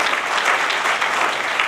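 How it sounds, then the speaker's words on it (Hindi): An audience at a training session claps for their parents in a brief, dense burst of steady applause, fairly close and even throughout. "तो मैं चाहूँगा एक बार जोरदार तालियां अपने पेरेंट्स के लिए भी।"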